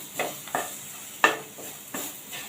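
Drumstick curry masala with spice powder being stirred in a pan over low heat, a soft sizzle under five distinct scraping spoon strokes spaced roughly every half second, close by.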